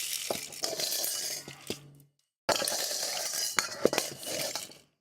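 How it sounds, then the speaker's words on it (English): A spoon sound sample from a synth plays two close, busy passages of clinking metal stirring against a pot, rattly and scraping, separated by a brief silence. "this, for instance, is the spoon sound, which you find in Punch, in Blue"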